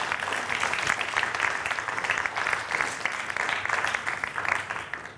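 Students at a 2013 school Battle of the Books event clap for themselves in a steady, moderately loud wave of applause with slight rises and dips, no talking over it.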